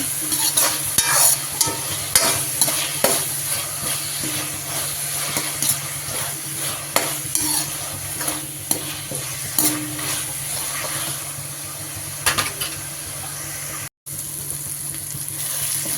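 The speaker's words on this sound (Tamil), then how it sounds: "இப்போ பார்த்திங்கன்னா தக்காளி நல்லா வதங்கிடுச்சு." Tomatoes sizzle in a pan while a spoon stirs and scrapes repeatedly in an uneven rhythm, close and fairly loud, with no talking.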